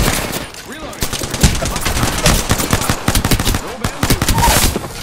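Rapid automatic gunfire from the Apex Legends battle royale. Dense bursts of sharp, close shots crackle almost without pause, with faint voices underneath.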